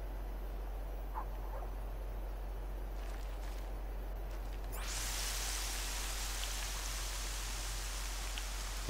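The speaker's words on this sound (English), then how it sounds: "I must say that the rain sound effects sound so real." Steady rain in the video game Horizon Zero Dawn, a dense even hiss of falling water that swells louder and brighter about halfway through and stays constant to the end.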